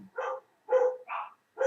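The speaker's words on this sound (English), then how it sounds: "my dog's barking and annoying the piss out of me today for no reason" A pet dog barks four times in quick succession, close by and fairly loud, with short pauses between the barks.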